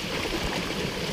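A stream runs swollen with monsoon water beside a rice field being planted in Tanahun, Nepal, giving a steady, even rushing and gurgling wash that fills the clip without a break.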